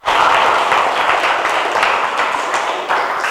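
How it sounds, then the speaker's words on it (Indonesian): Students in a classroom applaud a group after its presentation, a short burst of brisk, close clapping lasting a few seconds and tapering off. "beri tepuk tangan untuk kelompok"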